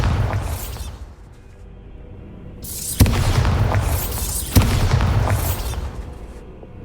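A Bombarda blasting spell in Hogwarts Legacy sets off a series of loud booming explosions, each with a sharp crack and a rumbling, crackling tail, following close one after another.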